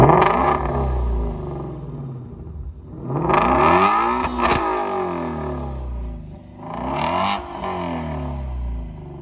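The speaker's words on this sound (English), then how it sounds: "Let's do it with active exhaust." A stock 2016 Shelby GT350 with its 5.2-liter flat-plane-crank Voodoo V8 revs with the active exhaust open, giving two loud, close rising-and-falling blips over a rumbling idle with no talking.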